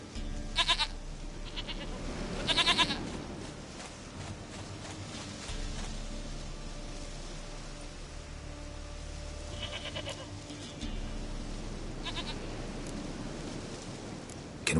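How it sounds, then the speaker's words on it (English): Goat bleats in The Witcher 3 come in several short bursts, close and fairly loud, over a quiet outdoor game ambience with light rustling and no voices. "Goat of mine, dearest, sweetest goat."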